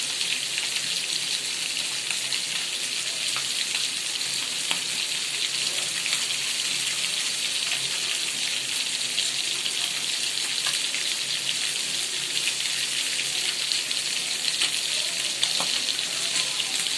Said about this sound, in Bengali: অনেক সুন্দর ভাজা হচ্ছে